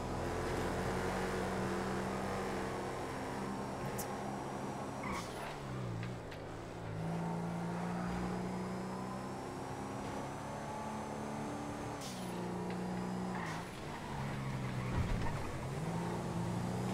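A Regina sedan driving laps in GTA FiveM, a steady engine drone holding a constant pitch with a couple of brief dips as it shifts or slows, moderately loud and alone with no talk.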